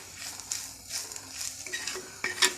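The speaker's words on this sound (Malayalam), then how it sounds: "നല്ലൊരു ഇളക്കി കൊടുക്കാം." Masala for Kerala egg curry being stirred in a pan, with repeated scraping and clinking of a spoon against the metal, irregular strokes that sharpen toward the end, close by with no speech.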